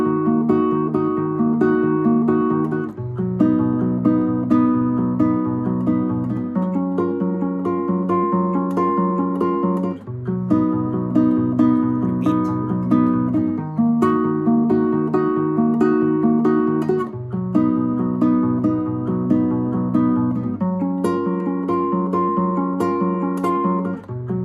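Chorus chords of a song played in a plucked picking pattern, a steady repeating cycle of chord changes every few seconds, clear and close with no voice over it.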